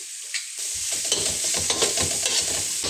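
Leafy greens for green mutton chops frying in a pan, a dense continuous sizzle that rises after a brief quieter start, with soft stirring scrapes mixed in, close and steady.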